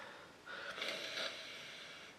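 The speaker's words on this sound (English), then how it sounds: "So let's give it a swirl and a good sniff." Someone takes a close, deep sniff of freshly poured, swirled beer, a soft airy inhale that swells and fades over about a second, alone and faint.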